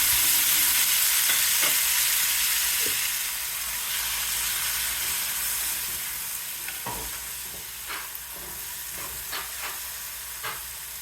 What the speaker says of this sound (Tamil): பொடிசாக வெட்டின தக்காளி 1 கப் அளவு இருக்கும், அதை சேர்த்து நல்லா வதக்க போகிறேன்.